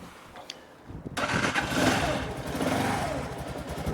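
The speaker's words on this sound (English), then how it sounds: "So now when I have fuel supply on and I have my choke down, I could start the engine." A Lexmoto Venom motorcycle engine with the choke on cranks briefly, catches and settles into a rough, rising idle, heard close and alone.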